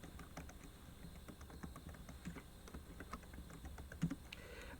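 Computer keyboard typing during Minecraft Superflat 1.17.1 play, a steady stream of quiet, close clicks with a slightly louder cluster near the end, over faint background hiss.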